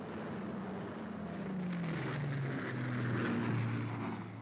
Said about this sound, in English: The Mosquito is a superb airplane.